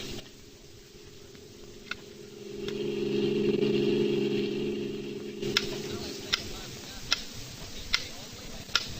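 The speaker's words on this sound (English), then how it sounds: "A metronome, a small, precise time interval measuring instrument that most pianists use." A metronome ticks in evenly spaced, crisp clicks that grow steadier and clearer toward the end, over a humming, noisy old broadcast background.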